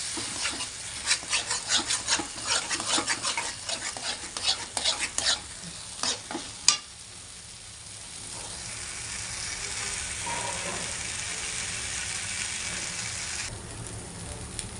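Masala mixed and stirred in a frying pan gives rapid, rhythmic scraping strokes over a sizzle for about seven seconds. A steady, quieter frying hiss carries on after the stirring stops.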